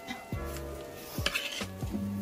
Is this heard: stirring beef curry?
yes